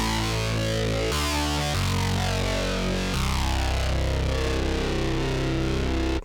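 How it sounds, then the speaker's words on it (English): A distorted synthesizer lead from a song, layered from three synths of the same sound: a dense, buzzing, gritty line that plays held notes and changes pitch in steps, loud and steady throughout with no talking. "And the lead is composed actually of three synthesizers of the same sound."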